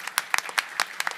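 Audience applause during a live sung stage play, a quick run of sharp irregular claps over about a second, moderately loud with no voices.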